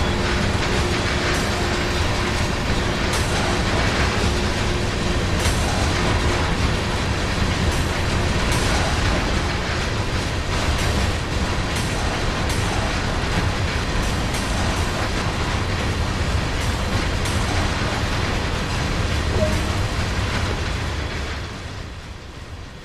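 A freight train in the Train Sim World 2020 game, running on a German line, makes a steady, loud rumble with rolling wheel and wagon clatter that holds through the whole stretch before easing slightly at the end.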